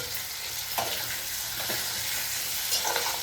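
Chopped chillies and tomatoes fry in a pan with a soft, steady sizzle at modest volume, punctuated by a few dull knocks and scrapes of a spoon stirring them around.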